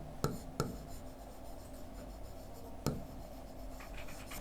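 Chalk or marker strokes writing numbers on a classroom board, with a few sharp taps and scratchy rubbing sounds over a steady room hum, close and without talk.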